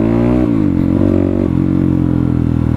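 An MRB Boro motorcycle being ridden, its engine droning steadily with gear-like pitch shifts, up close under heavy wind rumble.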